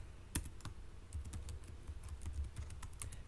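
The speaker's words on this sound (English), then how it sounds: "I will come up here and I will type" Keys clatter on a computer keyboard while entering text into a Word table, a quick uneven run of light clicks with one louder tap near the start, close and alone over a low room hum.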